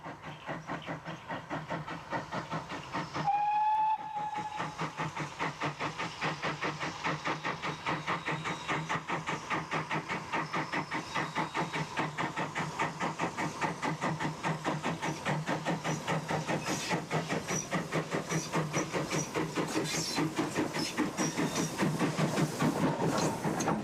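A steam-hauled passenger train with a diesel pilot on a heritage branch line runs steadily for the whole stretch, with a continuous rhythmic chuffing and clatter, a brief whistle near the start, and the engine sound growing slightly louder toward the end.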